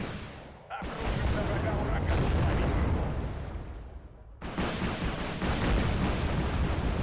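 Helicopter rocket pods firing in a combat video game, a dense roar of blasts and explosions that holds steady, dips briefly near the middle, then surges back loud to the end.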